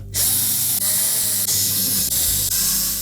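A power driver runs screws into the back panel of a GE range, a loud, close, continuous whirring buzz broken by several brief dips where each screw seats or the trigger is eased.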